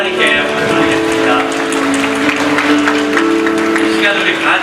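Youth congregation at a church worship service clapping along to singing, rhythmic hand claps blended with voices singing over a sustained musical accompaniment, loud and continuous.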